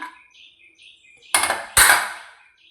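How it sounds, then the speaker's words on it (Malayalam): A pressure cooker is opened with two sharp metallic clanks of lid and pot close by, each ringing briefly, after a faint hiss and rattle. "കുക്കർ തുറന്ന് നോക്കാം."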